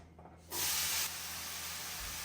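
Olive oil, about a tablespoon, heating in an already hot pan gives a sudden loud burst of hiss that settles into a steady, softer sizzle.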